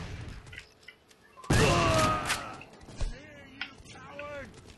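A planted bomb in a Civil War video game goes off with a sudden loud blast and a rumbling roar, then a smaller bang follows, while voices talk through the fading noise.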